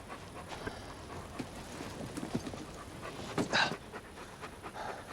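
A dog with a Vault-Tec scientist in the Fallout TV show pants in quick rhythmic breaths, close but soft, with scattered rustles and a brief louder burst partway through.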